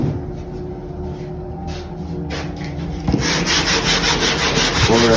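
A 3M sanding block fitted with 60 grit paper scrapes steadily across hot-coat UV resin on a repaired surfboard fin box area, close and loud, with continuous rhythmic strokes that grow harsher after a few seconds.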